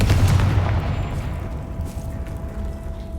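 Confringo fire spell blast in the Hogwarts Legacy video game: a loud booming fiery burst at the start that decays into a rumbling tail and low game ambience.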